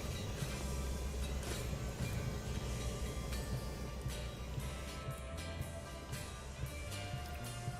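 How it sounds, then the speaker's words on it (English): A massive grain train rolls along in the Railworks train simulator game, giving a steady low rumble with rhythmic clacking and faint metallic clinks throughout, continuous and fairly loud. "Just an absolutely massive grain train behind us."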